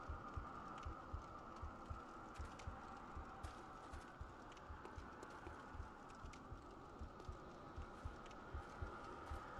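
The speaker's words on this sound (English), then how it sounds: "I heard a heartbeat just now." Steady low heartbeat thumping in Bloodborne, the rhythmic double pulses repeating throughout over a low droning hum, fairly quiet.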